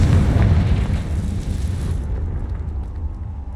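A Confringo spell bursts in Hogwarts Legacy, a loud booming explosion at the start that rumbles and fades over a few seconds.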